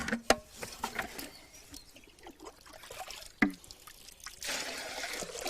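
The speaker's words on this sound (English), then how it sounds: "is scooping out the water." Water scooped out by hand in a rural Carpathian home in Romania, with faint trickling and dribbling, soft splashes and a couple of sharp knocks from the container, quiet and close with no talk.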